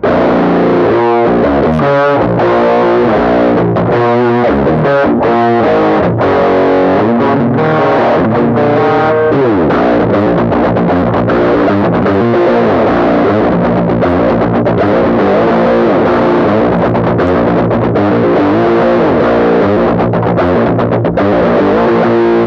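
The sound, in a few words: cocked wah guitar pedal tone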